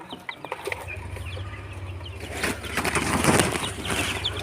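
Backyard chickens cluck and scuffle close by while being fed, a soft rustling that grows busier and louder partway through, with no talking.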